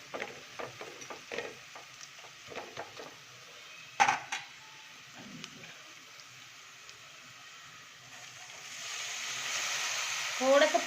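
Crab masala sautéing in a pan, with soft scraping strokes and faint sizzling early on, then a rising hiss of frying toward the end, all fairly quiet.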